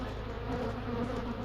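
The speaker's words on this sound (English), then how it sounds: "The bees are not happy. We just stole a bunch of honey from them" Honey bees swarm and buzz steadily right after a honey harvest, a dense, continuous drone close at hand with no pauses and no voices.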